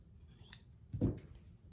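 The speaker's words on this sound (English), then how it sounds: "Then this overlap here, I'm just going to cut off the excess." Scissors make a brief snip through excess quilt fabric on a Christmas stocking, one short crisp cut standing out at moderate volume in a quiet room.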